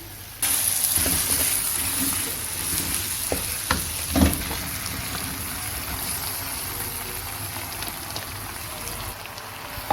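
Vegetables are stirred into chicken jalfrezi frying in a pan, giving a steady close sizzle broken by stirring scrapes and one louder clatter partway through.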